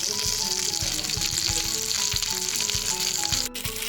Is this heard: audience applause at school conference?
no